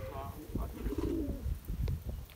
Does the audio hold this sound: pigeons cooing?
yes